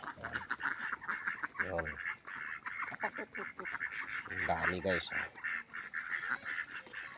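Geese honking repeatedly nearby, with a steady din of other fowl including chickens and a person speaking briefly in Filipino over the flock.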